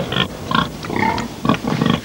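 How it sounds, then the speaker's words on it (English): A pig grunts in close, loud bursts, four or five rough snorts spaced across a couple of seconds, with no talk over them. "You likes my pig, don't you?"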